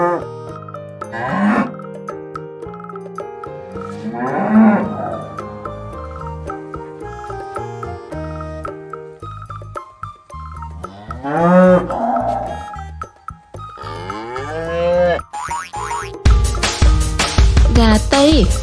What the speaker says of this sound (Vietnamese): Con bò.